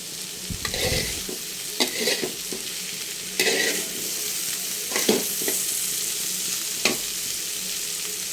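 Bitter gourd and shrimp fry in a home pan, a steady sizzle running throughout with several sharp scraping stirs of a spatula at irregular intervals, close and clear, no voices.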